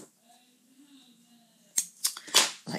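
Scissors snip through yarn after a quiet pause, a few sharp close clicks and cuts in quick succession.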